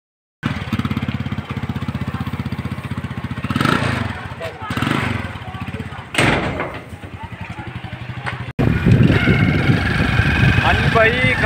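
A motorcycle engine idles outside a house, a steady low rumble running through the whole stretch while several voices talk over it.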